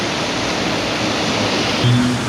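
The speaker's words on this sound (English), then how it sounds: "water is running down like it's raining under the bridge" Rainwater pours down from the beams beneath a road bridge in a dense, steady rushing hiss like heavy rain, loud and continuous throughout, with no voices.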